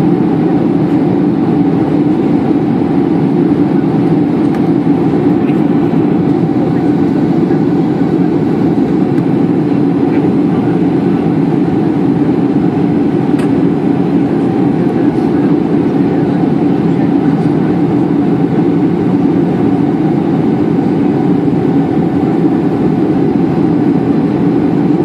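Steady low roar of an airliner cabin on landing approach into Modlin, a constant engine and airflow drone filling the space without pause and with no talk heard.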